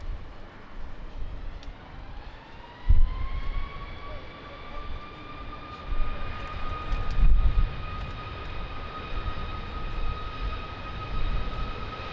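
A jet airliner starts its takeoff roll on runway 20 at Lisbon Airport on a strong-wind day, a loud steady engine roar with rising whine, continuous throughout with gusty rumble.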